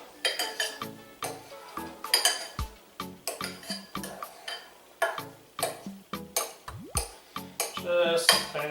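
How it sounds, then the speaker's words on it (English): A butter knife chops avocados, making repeated close clinks and taps of metal against a bowl or board in an irregular rhythm, fairly quiet, with no talk. "you take a butter knife and you just kind of cut it up"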